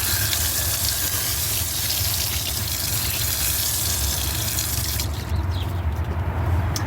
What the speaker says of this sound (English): Alright, then we'll just hose that out.